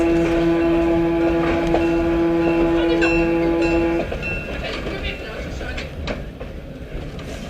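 Heber Valley Railway train ride in Utah: a steady, loud rumble of rolling railcars with a sustained horn-like tone for the first four seconds, then quieter clattering wheels and track noise.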